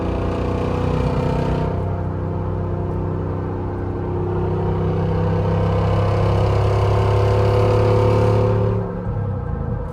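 A Jeep Rubicon 392 accelerating while towing gives a loud, deep, continuous engine drone with rising revs and a gear change partway through, heard close and alone with no talking.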